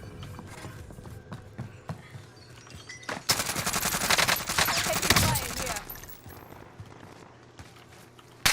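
Rapid bursts of automatic gunfire in an online shooter match, a dense fusillade over several seconds amid ambient game sound, with a sharp loud hit at the end.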